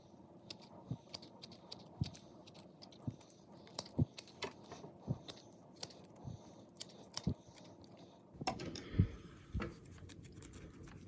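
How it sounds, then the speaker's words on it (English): Roots of a dwarf Alberta spruce bonsai, potted too deep, are snipped with cutters: a series of faint, sharp clips spaced a second or so apart, followed by a brief burst of rustling and scraping near the end. "Cut away some of these roots."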